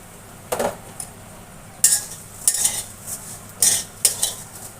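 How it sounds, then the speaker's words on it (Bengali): Broken vermicelli is fried in a pan with bay leaf, cardamom and cinnamon, a spoon clinking and scraping against the pan in several distinct strokes over a faint background sizzle, close and without talk. "সিমাইটাকে ভেজে নেব"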